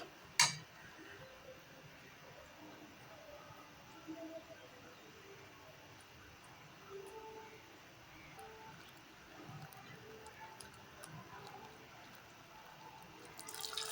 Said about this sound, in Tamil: இப்போ தண்ணி ஊற்றிக்கிட்டோம்